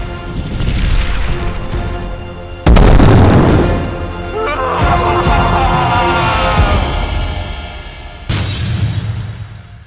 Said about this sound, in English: an explosion of light filled the space, shattering his mask